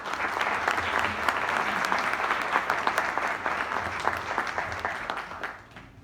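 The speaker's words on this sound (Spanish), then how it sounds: "Un fuerte aplauso, por favor." At a university conference on stock market myths and realities, an audience breaks into loud, dense applause to welcome a speaker. The clapping stays full for about five seconds, then thins and fades away.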